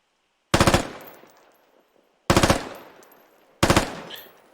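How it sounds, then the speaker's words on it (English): Three short bursts of automatic weapon fire ring out in the video game Squad, each a quick rattle of several shots followed by a fading echo, with brief silent pauses between bursts. "it goes to automatic fire, which is good for up close"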